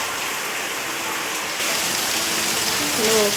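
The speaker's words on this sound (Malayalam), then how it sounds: "പുറത്ത് നല്ല മഴ." Heavy rain falls outside in a dense, even hiss that swells slightly partway through. A voice is faintly audible near the end.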